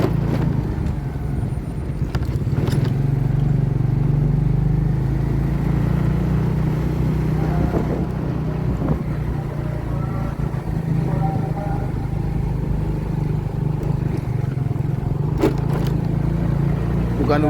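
Motorcycle riding along a route to a flood-prone housing area, its engine droning steadily and loudly up close for the whole stretch, with wind rumble and some speech mixed in.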